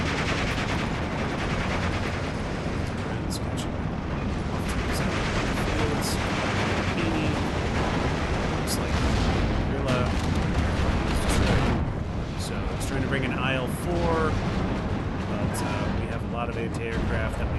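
Mortar and gunfire in the World War II strategy game Steel Division 2 during a forest battle at Tannenberg: dense continuous rumble with scattered explosive thumps and crackling shots, while someone talks over it.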